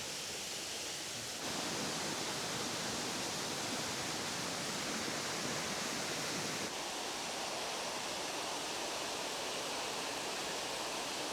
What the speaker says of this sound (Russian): шум воды от речки создает шикарную атмосферу